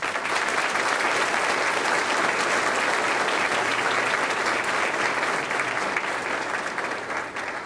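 Graduation crowd applauding in honour of their teachers, a loud, sustained wash of clapping that holds steady throughout and tapers slightly at the very end.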